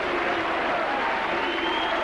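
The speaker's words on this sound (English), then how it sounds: "the Eagles coming over and applauding the fans" Rugby league crowd applause at a Sheffield Eagles versus St Helens first division match as the players come over to the fans, a steady, dense wash of clapping filling the stadium throughout without a break.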